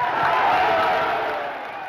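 A crowd at a rally shouts back a salute in a loud, blended roar of voices that swells briefly and then fades a little over under two seconds.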